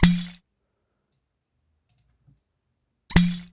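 A glass explosion sound effect made for game sound design: a sharp bright crash with a short tinkling tail, then near silence, then a second identical crash.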